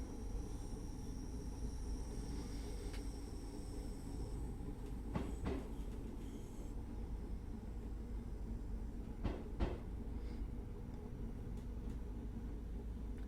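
Simulated train running on the Cathcart Circle Line in Train Sim World 2, a steady low rumble of wheels and motor with a few sharp clanks and knocks from the rails, continuous and fairly close, with no talk.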